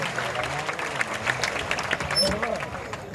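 An audience at a Haryanvi comedy poets' gathering claps to welcome Haryana Deputy Chief Minister Dushyant Chautala, a steady wash of applause mixed with crowd noise and some voices throughout.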